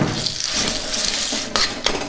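A spoon clinks and scrapes against a metal pot as amla chutney is added, with a few quick bright metallic knocks over a hissing kitchen background.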